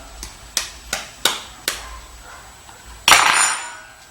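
A small child knocks an egg against the rim of a bowl while baking a cake, five sharp, evenly spaced taps followed by a louder crack-like knock, close and fairly loud with no talk.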